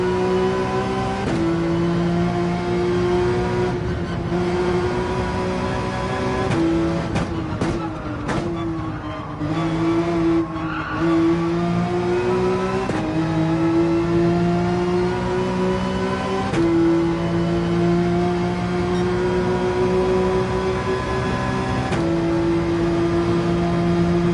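A racing video game car engine strains as it accelerates uphill, droning loud and close, with a steady tone that rises through each gear and drops at the shifts, repeating across the whole stretch.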